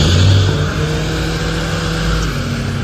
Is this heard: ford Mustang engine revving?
yes